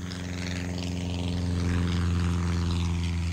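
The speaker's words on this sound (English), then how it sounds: "the inhabitants complain of regularly being sprayed by the crop dusters" A crop duster plane passes overhead above a plantation village, a loud, steady propeller engine drone with a deep hum that swells slightly as it nears.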